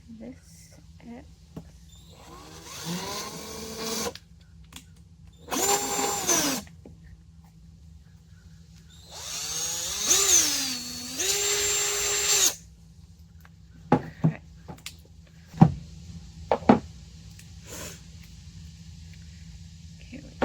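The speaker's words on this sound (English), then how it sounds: "Drill a hole in the middle of this X." A power drill boring a hole through a wood spindle whines in three separate bursts, each spinning up and winding down, followed by a few sharp clicks and knocks in an otherwise quiet room.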